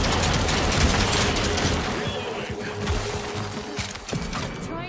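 Dense, loud gunfire and mechanical weapon clatter while shooting zombies in the VR game After The Fall, continuous rapid shots close up with voices mixed in.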